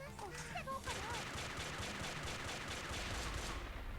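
Barrett .50-cal-style sniper rifle fire in the Japanese PS Vita game Bullet Girls comes as a quick string of sharp, evenly spaced shots, fairly faint and steady, after a few brief chirping game effects.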